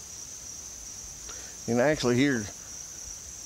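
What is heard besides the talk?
crickets chirping by a pond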